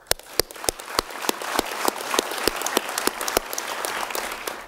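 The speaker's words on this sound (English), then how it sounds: "So I'd like to have everybody give each other a round of applause." Audience applause at an awards ceremony, a fairly sparse crowd clapping with distinct individual claps throughout, steady and moderately loud.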